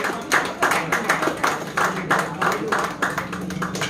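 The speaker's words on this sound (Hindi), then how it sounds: "जोरदार तालियों के साथ में जैकी दादा" Audience clapping at a lively prize distribution function as Jackie Dada comes up to receive his award, a fairly quiet patter of hand claps with uneven rhythmic bursts and no voices over it.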